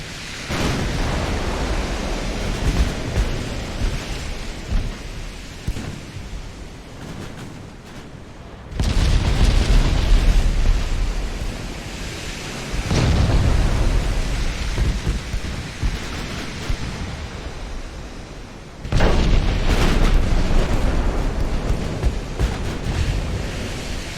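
Naval gunfire from 11-inch guns and shell explosions in the Ultimate Admiral: Dreadnoughts video game, heard as a dense, roaring rumble that swells into heavy surges of blasts, loud and continuous.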